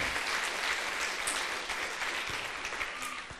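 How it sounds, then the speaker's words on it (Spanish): A church congregation applauds for Jesus in a dense, steady wash of many hands clapping, filling the room at a constant level with no voices on top. "fuerte el aplauso a nuestro Señor Jesús"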